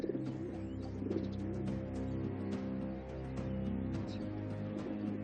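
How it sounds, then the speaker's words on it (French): Homing pigeons kept by Resistance fighters in wartime coo in a low, steady murmur that runs throughout, with several birds overlapping at moderate loudness. "Les services secrets britanniques leur ont fourni des pigeons voyageurs capables de rallier Londres en quelques heures."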